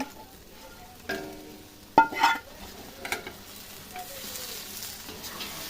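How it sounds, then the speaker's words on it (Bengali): Rohu fish sautéing with onion, tomato and bean seeds in a pan, soft sizzle under intermittent close spoon scrapes and clinks against the pan, with a sharp knock near the middle. "মাছ দিয়ে আর পাঁচ মিনিট কষাবো"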